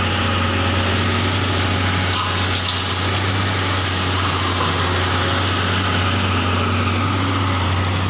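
A trailer truck's engine runs steadily while coal is loaded in Laos, a continuous low hum and broadband rushing noise with a brief louder burst partway through and no talk.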